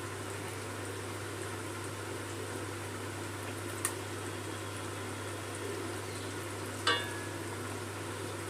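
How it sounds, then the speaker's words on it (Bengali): Fish curry gravy for Bengali katla kalia, spiced masala thinned with hot water, simmers in a pan before the fried fish goes in. It gives a faint, steady bubbling hiss with a couple of small clicks. "ঝোলটা ফুটতে শুরু করেছে, মাছগুলো দিয়ে দেবো।"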